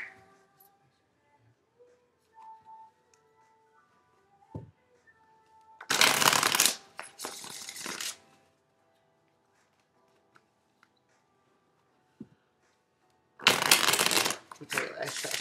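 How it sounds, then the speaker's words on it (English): Two bursts of a deck of tarot cards being riffle-shuffled, crisp and close, separated by quiet handling noises and soft clicks. "I'm just trying to make sure I shuffle these cards up really good"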